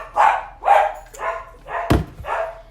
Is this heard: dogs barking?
yes